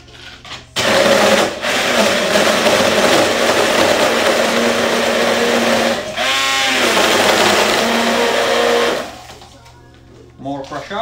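A hand blender whirs loudly for about eight seconds, its motor pitch shifting as it churns through a Pallini liqueur drink and crushed ice, then cuts off abruptly.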